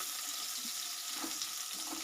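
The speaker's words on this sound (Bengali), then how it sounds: "তা আর একদিকে আমি বসিয়ে দিই ছোলাটা ভুনতে।" Chickpeas being dry-roasted in a pan, a faint, even hiss with a few soft low stirring knocks, heard alone without talk.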